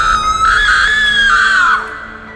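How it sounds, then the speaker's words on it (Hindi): A woman lets out one long, loud, piercing scream for a horror story, holding it for almost two seconds before it trails off. "वो जोर से चीखी"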